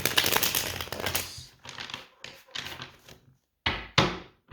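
Tarot cards riffle and slap in quick shuffling bursts, dense at first and then in separate short flurries with brief silences between, close and crisp.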